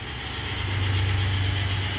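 A Doall 12 x 18 inch horizontal metal-cutting bandsaw with variable speed and hydraulic clamp runs loud and steady, a continuous low motor hum with a rising tone and a hissy upper band, no talk.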